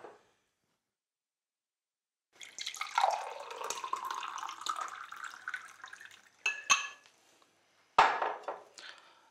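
Water is poured into a glass for a guest in a continuous splashing stream lasting several seconds, followed by two sharp clinks of glass or crockery set down nearby.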